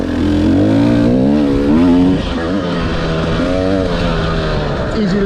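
A 2020 TX300 two-stroke dirt bike is ridden hard with its engine loud and close throughout, the revs rising and falling continuously as the rider works the throttle.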